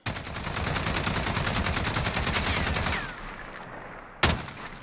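Sustained automatic fire from an L22A1 rifle in Call of Duty: Modern Warfare, a rapid steady stream of loud shots lasting about three seconds, then a quieter pause and one sharp final bang.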